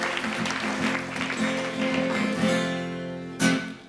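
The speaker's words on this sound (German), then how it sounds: "Bitte einen grossen Applaus am Schorsch" Applause at a Swiss carnival show during the Guggerzytli 2026 performances, a soft spread of audience clapping under a sustained tonal hum, with a sharp single clap near the end.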